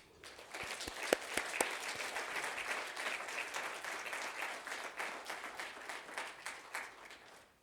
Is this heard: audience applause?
yes